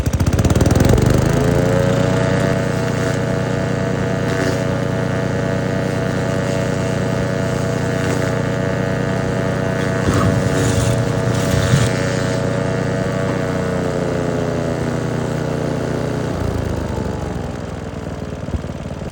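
A wood chipper's small gasoline engine runs steadily with a new carburetor fitted, a loud, even mechanical drone heard up close with a few brief knocks partway through before the engine settles and fades slightly near the end.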